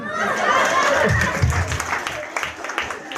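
A church congregation at an evangelistic revival service in Kupang breaks into applause, a dense steady patter of many hands that tapers off gradually, with voices mixed in.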